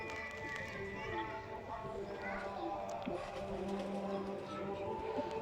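Pigeons heard outdoors, with faint cooing and bird calls mixed into a busy background under steady talking.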